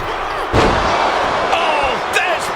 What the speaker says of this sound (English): just a disgusting thud heard here at ringside